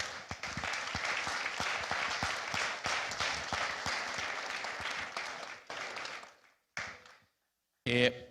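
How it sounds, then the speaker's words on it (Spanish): An assembly audience at an annual industrial-sector business federation meeting applauds a prominent businessman and banker on his arrival: sustained, even clapping that fades out in stages, followed by a short pause and a voice. "Un fuerte aplauso."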